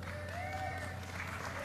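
Crowd applauding and cheering at a political speech on climate change, heard faintly and at a distance as a steady wash of clapping under a low hum.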